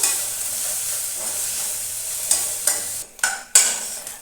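Cauliflower florets fry in about half a spoon of oil until browned, making a steady close sizzle that drops away abruptly near the end, followed by a few sharp scrapes and clinks of a spatula.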